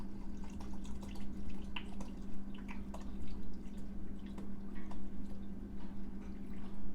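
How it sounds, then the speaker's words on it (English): Base spirit, a pint of it, pours into a quart glass mason jar with a soft continuous trickle and irregular splashes and drips over a low background hum. "We're going to start off with 1 pint or 2 cups of our base spirit."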